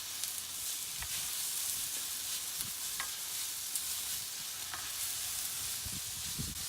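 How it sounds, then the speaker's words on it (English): Onions and garlic fry in a pan for a Palestinian lamb dish, giving a steady close sizzle with occasional scraping stirs and small pops throughout, and no talking. "we want to get a really nice brown colour on these onions."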